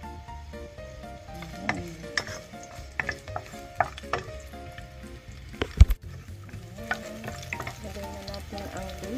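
Garlic frying in hot cooking oil, a low crackling sizzle broken by repeated spatula scrapes and clinks against the pan, with one sharp metallic knock midway and a single short spoken word near the start.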